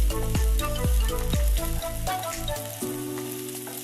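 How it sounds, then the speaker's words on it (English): Onions fry in a pan for coconut curry meatballs, sizzling loudly and continuously up close, with crackling pops and the occasional clink of a utensil. "Let's go ahead and fry our onions."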